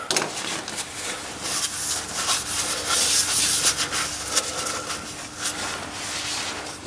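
A cloth rubbing and wiping around the sump plug area under a Toyota Aygo during an oil change, a steady close scraping rub lasting several seconds with no talk.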